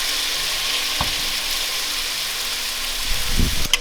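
Mushrooms sautéing in a pan give a steady, moderate sizzle throughout, with a couple of brief utensil knocks and a soft stirring clatter near the end; no one speaks.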